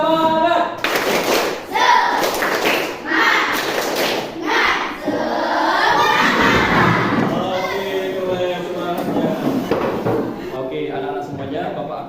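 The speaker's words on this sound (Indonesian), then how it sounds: "Oke, sama-sama tepuk semangat." Classroom of schoolchildren doing a counted spirit clap together, a burst of rhythmic group claps and thumps mixed with a lively room of kids' voices, loud and close throughout.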